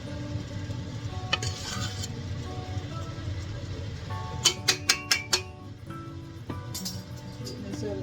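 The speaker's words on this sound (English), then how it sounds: "This other spoon, so I scrape all that goodness out" Spoon clinking and scraping against a bowl of bread pudding mixture, several quick metallic taps in a short burst amid a low steady kitchen hum, no talking.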